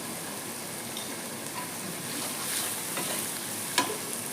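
Ground spices (turmeric, chili, cumin, Kashmiri red chili powder) cooking in a pan with a splash of water, giving a steady low sizzle and frying hiss with faint stirring scrapes and one sharp clink near the end.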